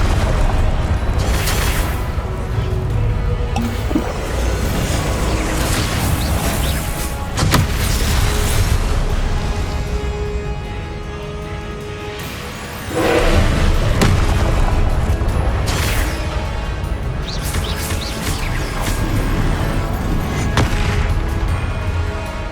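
Repeated spell blasts in Hogwarts Legacy, loud booming bursts and explosive impacts layered over a continuous heavy rumble, with a brief lull before another surge of blasts.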